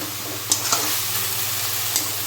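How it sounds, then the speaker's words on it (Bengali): Spice paste frying for chicken kosha, a bright continuous sizzle with a few quick scraping strokes of a spatula across the pan. "আমি এবার মশলাটা ভালো করে একটু কষিয়ে নিয়ে তারপরে আমি অ্যাড করে দেবো ভেজে রাখা মাংসগুলো"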